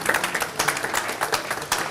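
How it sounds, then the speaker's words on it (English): An audience at a port business event claps in a brief, steady round of applause, with dense close hand claps throughout. "Another round of applause for him."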